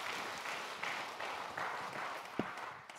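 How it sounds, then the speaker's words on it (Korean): A church congregation applauds, a soft diffuse wash of clapping heard from a distance, fairly faint and continuous across a few seconds with one sharper tap near the end. "박수로 우리 격려하겠습니다."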